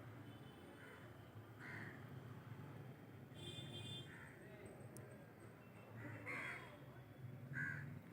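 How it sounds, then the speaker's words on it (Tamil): Crows caw repeatedly in short bursts while gathering at a feeding spot for birds, over steady outdoor background noise, several calls fairly close. "எத்தனை காக்கம் பார்த்தீங்களா?"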